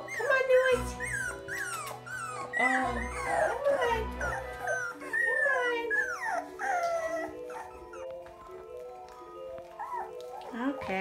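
Several young puppies from a Christmas-time litter, about three weeks old, whimper and yip in high, wavering cries, close and fairly loud, with soft talk and handling noises mixed in at the start.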